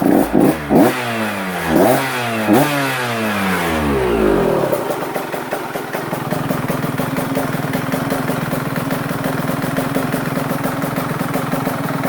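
A KTM 125SX two-stroke dirt bike engine warming up: a few sharp revs rise and fall, then it settles into a steady, buzzing idle, loud and close, with no talk.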